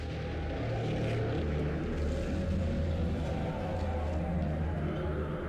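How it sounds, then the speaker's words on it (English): Helicopter flying in The Bureau video game, a loud, continuous low engine and rotor drone that holds steady throughout with no other sounds standing out. "I thought we just had a helicopter."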